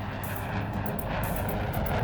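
A jet airliner out of Heathrow climbs northwest toward Scotland, its engines holding a steady, even roar for a couple of seconds with no speech.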